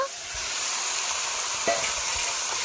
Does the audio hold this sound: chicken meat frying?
yes